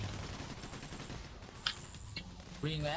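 Scattered gunshots in the heist shooter PAYDAY The Heist, a couple of quick, moderately faint cracks over busy game noise, with a voice speaking near the end.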